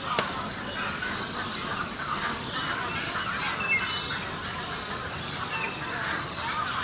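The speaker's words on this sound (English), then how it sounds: "Lots of ibis." Australian white ibis call from an urban wetland bird habitat, harsh honking croaks scattered over a busy background of many birds, moderately distant and continuous.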